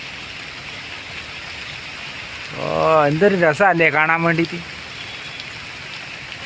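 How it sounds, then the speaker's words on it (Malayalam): Heavy rain keeps up a steady hiss while someone speaks briefly over it for a couple of seconds, the downpour continuing alone before and after his voice. "നല്ല മനോഹരമായ മഴ ഇങ്ങനെ ശക്തമായിട്ട് പെയ്യുന്നുണ്ട്"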